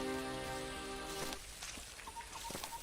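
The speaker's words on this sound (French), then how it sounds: "La pluie tombe dru" Heavy rain falls as a dense, steady hiss of drops spattering on surfaces, close and even, with a few brief chirps above it toward the end.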